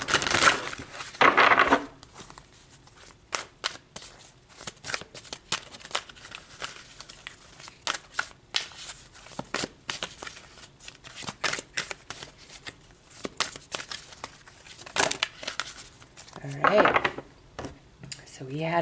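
Tarot cards are shuffled and drawn, giving repeated crisp riffling and flicking bursts, close and fairly loud, in irregular clusters with quiet gaps between.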